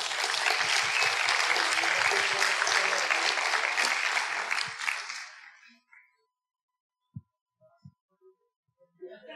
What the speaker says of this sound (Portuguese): Palmas para o Paulinho.